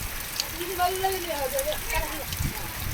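Steady rain patters across a surface during a storm, while a person talks over it in a soft voice.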